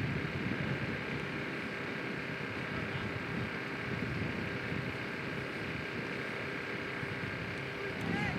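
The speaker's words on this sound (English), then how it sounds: "it is very, very windy today." Strong wind buffets the microphone at an outdoor soccer match in bitter cold, a constant loud roar and rumble throughout.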